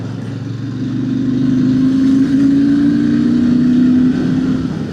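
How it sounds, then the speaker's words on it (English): A 650 Shotgun motorcycle engine drones steadily while riding along country lanes, a close, continuous hum with a gently rising and falling pitch as the bike holds speed, alone without talk. "Certainly a nice bike in the country lanes."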